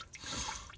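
Coolant draining from the block heater port of a Ford 6.4L diesel engine, a brief, soft, continuous trickle and drip of liquid.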